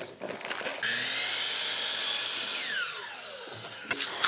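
A power saw cuts through a wooden dowel: a loud, near whine bursts in, holds for about three seconds, then drops in pitch as the blade winds down, with a few small knocks before and after.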